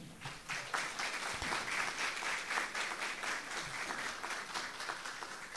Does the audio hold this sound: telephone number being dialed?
no